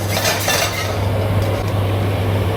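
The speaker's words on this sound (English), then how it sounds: "Stir, stir, stir until it's fragrant." Dry ingredients are stirred and toasted in a pot for a Thai chicken curry, giving a steady scraping and light crackle of spoon against metal over a constant low hum.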